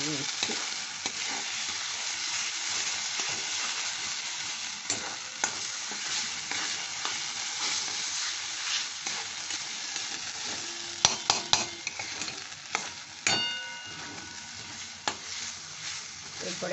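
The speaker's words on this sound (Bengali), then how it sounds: "এই পোস্ত সবটাই দিয়ে দেবো দিয়ে এই এর সাথে ভালো করে মিশিয়ে" Poppy seed paste being stirred and fried in oil in a pan, a continuous sizzle with scraping strokes of a spatula and a cluster of louder clanks against the pan near the end.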